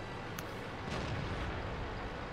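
A T-34-3 tank cannon fires in World of Tanks, heard as a muffled, distant boom rolling into a sustained rumble of battle noise.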